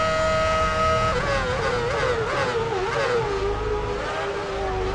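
Formula One race cars at full speed in the video game Formula One Championship Edition, a loud sustained engine whine that shifts pitch as cars jostle and pass, continuous and close.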